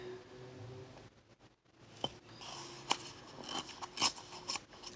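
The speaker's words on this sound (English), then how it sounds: "Just put my ruler down and, you know, hold next to the ruler and tear it off." A page of paper is torn off along a ruler, making a quiet, close series of crisp ripping and crackling bursts after a brief pause, with no talking.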